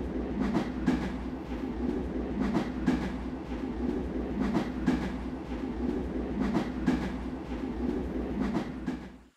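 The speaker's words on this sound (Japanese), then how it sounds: "まずちょっと電車でどこかへ行く。" Steady rumble and rhythmic clickety-clack of a train ride inside a video game, a loud continuous run with repeated wheel clicks throughout, no voices, cutting off at the end.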